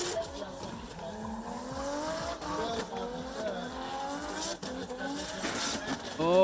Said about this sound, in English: trying to handbrake to keep the car in the line